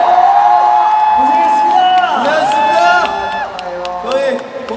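A concert audience in Seoul at the encore cheers and screams with rising, high-pitched whoops under a performer speaking loudly into a microphone.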